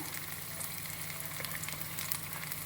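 Sliced onions sizzle in hot oil with green chillies while making Rayalaseema-style uggani, a steady, soft crackling fry with no one talking.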